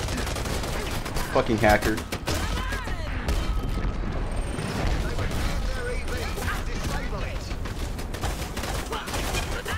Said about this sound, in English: Oh, I just missed so many shots right there.